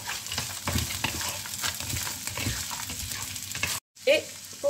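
Chopped onion and frozen bell peppers frying in a pan, a loud continuous sizzle with crackles and stirring scrapes, broken by a brief gap near the end before the hiss returns.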